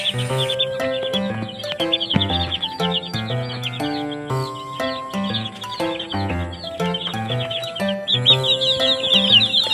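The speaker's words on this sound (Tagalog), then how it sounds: "tinatry natin na palabasin sa kulungan ang ating mga alagang sisiw" Young pet chicks let out of their cage give repeated high, thin peeps and chirps over loud, rhythmic background music that dominates throughout.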